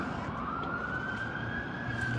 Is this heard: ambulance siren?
yes